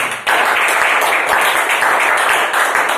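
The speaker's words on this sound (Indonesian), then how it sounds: "Beri aplaus buat perekrut saya Ibu Ita Fitria teman-teman" Audience applause for a recruiter at a business gathering, a dense, steady wash of many hands clapping that starts abruptly and holds loud and continuous throughout.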